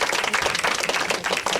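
Audience applause after a Q&A with the producers of Funny Games U.S., a short burst of dense, steady clapping from a room full of people.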